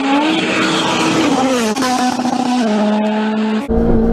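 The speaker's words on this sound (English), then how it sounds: "This is called rally driving." A rally car engine drones loudly and continuously, its tone holding steady and then stepping down in pitch as it drives over a bumpy course, with a brief dip before the roar resumes.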